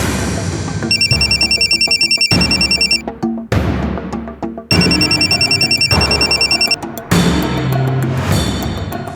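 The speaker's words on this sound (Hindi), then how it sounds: "फोन नहीं उठा रही है।" A telephone bell rings loudly in repeated bursts, roughly four trilling rings separated by short gaps, in a Hindi crime drama scene, with no one speaking over it.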